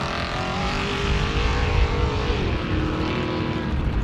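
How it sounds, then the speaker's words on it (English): A 4800 class off-road race car engine screams loudly, its pitch climbing and then shifting as it accelerates away from the line, with a rough, roaring buzz over a wide, noisy outdoor background. "You can hear the change of pace as that motor screams as he heads down towards that first bend"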